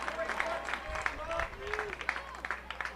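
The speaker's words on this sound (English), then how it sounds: "Almost a sarcastic applause there from the crowd after they thought that 1-0 pitch was a strike too." A baseball crowd at a Kettleers versus Bourne Braves game claps sparsely from a distance after a disputed pitch, scattered hand claps mixed with murmuring voices and a commentator talking over it.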